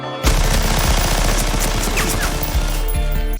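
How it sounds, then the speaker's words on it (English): A drug-house raid scene in the action film A Day to Die erupts in loud, dense automatic gunfire, rapid shots overlapping into a sustained barrage with a faint ricochet-like whine partway through and no dialogue. "they raid the drug house and shoot anyone and anything that moves dead"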